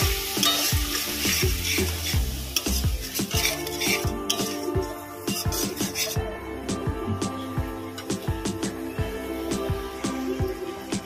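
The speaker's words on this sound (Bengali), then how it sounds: "লঙ্কার গুঁড়ো, একটু জল দিয়ে দেবো, মশলাটা যাতে পুড়ে না যায়। ভালো করে কষিয়ে নেব।" Spice paste with chilli powder and a splash of water sautéed in a pan for a prawn and taro dish, loud sizzling under rapid metal spatula scrapes and clinks.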